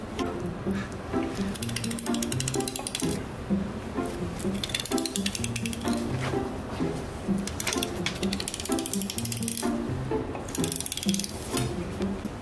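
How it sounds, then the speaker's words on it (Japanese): Kitchen knife scraping along the bones of a large king salmon during filleting, a rapid, repeated gritty clicking and rasping in uneven bursts, close and fairly quiet with no talk over it. "これ骨に当たってる音なんですけど"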